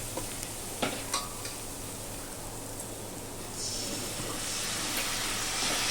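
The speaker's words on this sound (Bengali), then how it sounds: "এই মশলাটা একটু ভালো করে মিশিয়ে নিচ্ছি" A spice mixture with chilli powder being stirred while cooking: a few faint taps and scrapes early, then a steady sizzling hiss that grows louder toward the end. No talking.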